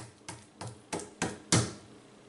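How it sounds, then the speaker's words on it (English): Five sharp hard knocks ring out as rock-solid banana taffy is banged on a table, evenly spaced and getting slightly louder, close up and with no talking. "Laffy Taffy would sound like that if you banged it on the table."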